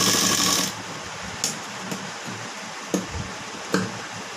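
A sewing machine stitches the front part of a blouse in a short, close burst at the start, followed by quieter pauses broken by a few sharp clicks and taps of handling.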